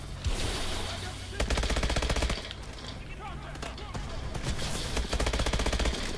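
Automatic gunfire in the video game Call of Duty Advanced Warfare, loud rapid machine-gun bursts in several long stretches with brief pauses, close and dominant over other game sounds.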